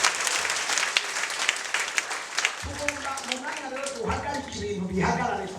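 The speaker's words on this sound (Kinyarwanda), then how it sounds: "dukomere amashyi umwami Yesu" A church congregation claps loudly in worship of Jesus, a thick burst of applause for a few seconds that gives way to sustained sung or musical tones while the clapping thins beneath them.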